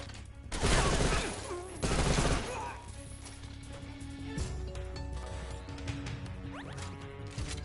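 Gunfire in the video game Metal Gear Solid 3 Snake Eater, two loud bursts of rapid automatic fire followed by quieter clattering game sounds.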